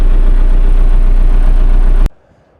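A freshly overhauled engine on a tractor used for sowing corn runs with a loud, steady, low idling rumble close by, then cuts off abruptly near the end.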